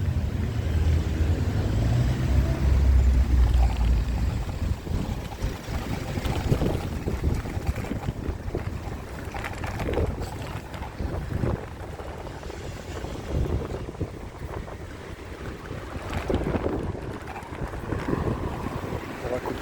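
Wind gusts buffet the microphone outdoors beside a street, a loud, rough rumble that rises and falls throughout, with a faint hint of traffic.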